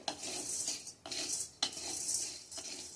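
A metal spoon scrapes and stirs dry contents in a pan over a high flame for dinkache ladoo, in three or four sweeping strokes with brief pauses between.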